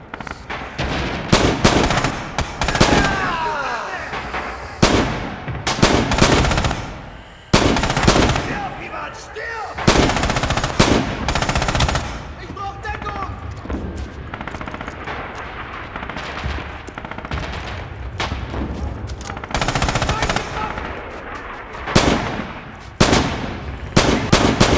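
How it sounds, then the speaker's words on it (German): Automatic machine gun fire from the World War II shooter Red Orchestra 2, loud repeated bursts and single shots going on throughout with other battlefield gunfire behind them. "Ich hab so das Gefühl, als wenn ich hier irgendwie mit Platzpatronen schießen würde."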